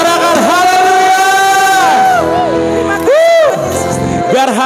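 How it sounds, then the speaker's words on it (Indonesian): A church congregation shouts hallelujah together, loud sustained crowd voices rising and falling in two long waves with a brief lull between, close and strong. "Sorakan haleluya."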